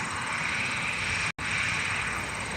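A Delta Connection Embraer E170 jet roars steadily nearby with a loud hissing engine whine, broken once by a split-second dropout, with no voices.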